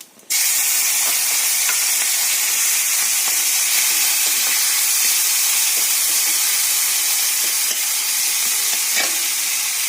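Dry chilli, radhuni tempering spices and shrimp drop into hot oil and burst into a loud, continuous sizzle and hiss, close and steady for the whole stretch, with faint stirring ticks.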